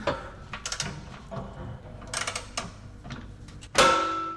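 A wrench slowly turns a rusted nut on a Jaguar S-Type rear suspension lower arm, giving close repeated ratcheting clicks and scraping ticks in an uneven rhythm, ending with a louder metallic clank.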